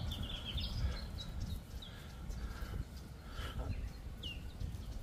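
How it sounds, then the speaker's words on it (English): Several birds call and chirp in short, high bursts over a low, steady outdoor rumble in St Lucia, some calls nearer and brighter than others. "Hell of a bird party going on here."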